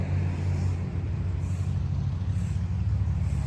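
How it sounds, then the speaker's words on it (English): A bus rumbling past on a road in Chapala, Mexico, a loud low engine drone that holds steady for a few seconds with slight swells, no talking over it. "So that is the 5th bus going the opposite direction since we've been up here."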